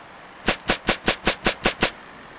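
Seven evenly spaced gunshots from a weak gun in a quirky indie video game, sharp loud cracks fired at a steady rhythm over quiet background, then silence.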